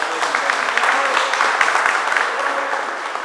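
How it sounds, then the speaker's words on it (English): Another round of audience applause for Marcel during a leadership talk: continuous, fairly loud clapping from a crowd, steady throughout the short stretch. "Can we give him another round of applause?"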